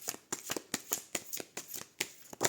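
A deck of cards is cut and shuffled close up, giving a quick run of crisp riffling flutters and soft slaps in a steady rhythm, with no voices.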